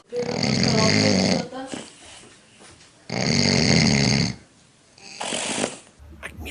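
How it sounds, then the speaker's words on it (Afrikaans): A person snores loudly in long, heavy rasping breaths, two sustained snores separated by a quiet gap and a shorter third one near the end, close and dominant. "Afrikaans sprekende mense kan moerse snork."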